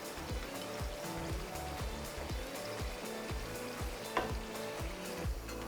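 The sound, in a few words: yogurt added to minced meat and tomatoes sizzling in pan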